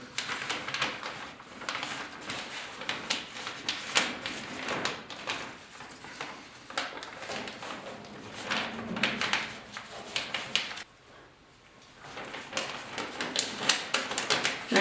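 Masking tape and paper are applied inside a 1972 Ford F100 4x4 truck cab before painting, with close, irregular tearing, crinkling and pressing sounds, busy and bursty with a brief quiet gap.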